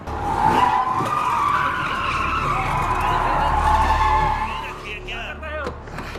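Car tires skidding and screeching in a Korean drama scene, a sustained loud squeal lasting several seconds with engine rumble beneath, fading out at the end.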